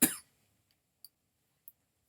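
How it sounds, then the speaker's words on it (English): A single sharp cough close to the microphone, short and forceful, followed by near silence with two tiny faint clicks. "I had a cough there."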